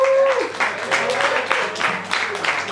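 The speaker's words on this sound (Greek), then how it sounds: "ένα μεγάλο χειροκρότημα" A live concert audience applauds, clapping in a dense, uneven patter that holds steady after a brief tone at the start.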